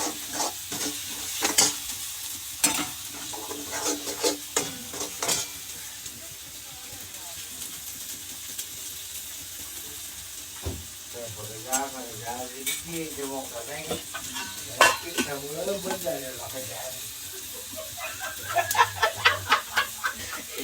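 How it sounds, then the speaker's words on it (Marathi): Quiet sizzle of spices tempering in hot oil, with asafoetida added, and occasional stirring clatter, while a voice talks intermittently over it. "फोडणी तडका बसला ना फोडणीला"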